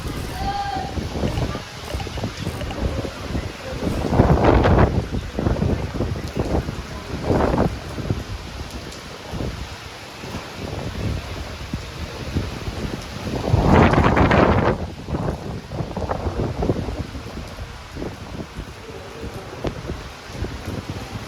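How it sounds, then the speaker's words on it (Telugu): Rain falling steadily with gusting wind outdoors, a broad rushing wash that swells loudly in several gusts, then eases. "వర్షం పడుతూనే ఉంది,"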